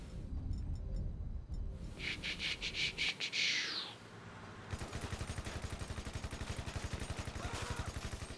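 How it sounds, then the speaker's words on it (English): Gunshots out in the wilderness in Grand Theft Auto V, with a rapid, even run of shots in the second half after some earlier sharp bursts, fairly faint amid ambient game sounds. "Oh, he's shooting back."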